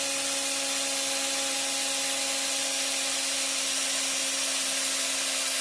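A tire being worked with a power sander gives a loud, steady abrasive whir that runs without a break and holds a constant pitch, with no voices.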